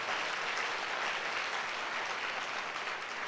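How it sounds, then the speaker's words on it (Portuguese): A church congregation applauds during a Sunday service, a dense, even wash of clapping from many hands that holds steady throughout without a pause. "Dá um aplauso ao Senhor."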